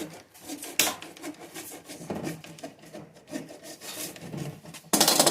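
A groove is cut into wood for a fishing rod holder, giving rough rasping, scraping strokes in irregular bursts close by, with a sharp louder scrape at the very end.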